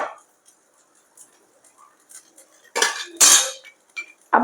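A spatula clinks and scrapes against a hot pan while potato tikki patties for a veggie burger are turned over, sharp metallic taps and a few louder scrapes bunching toward the end after a quiet start, close and distinct.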